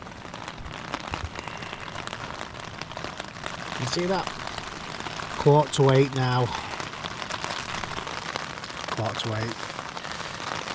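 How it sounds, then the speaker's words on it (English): Rain pattering steadily on a tent during a solo wild camp, a dense, even drizzle of drops close overhead that runs the whole time, with someone speaking briefly over it. "Still raining."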